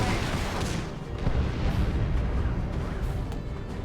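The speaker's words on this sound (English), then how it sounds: "He does get a plasma grenade." Plasma grenade blasts in the real-time strategy game Dawn of War 2 (Elite Mod) form a dense, continuous rumble of booming explosions and battle noise, loud and sustained throughout.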